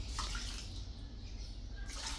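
Water runs steadily into a pressure cooker holding octopus for an endong and octopus breakfast dish, a continuous close splashing pour lasting the whole moment with no talk.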